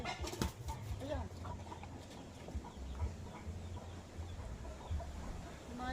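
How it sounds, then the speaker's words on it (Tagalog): A hen clucks softly among other farmyard birds, with faint chirps and a low background hum, fairly distant and quiet. "Mayas na tuloy yung inahin"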